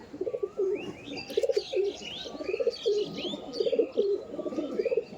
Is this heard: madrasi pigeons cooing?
yes